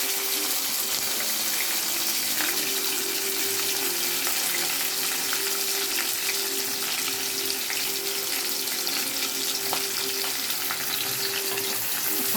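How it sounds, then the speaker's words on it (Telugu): Onions frying in oil in a pan for a Vijayawada-style mutton and cluster bean curry, a steady close sizzle with light crackle and occasional stirring, no talk. "వేగిన తర్వాత ఆయిల్ వేసి ఆనియన్స్ వేస్తాం"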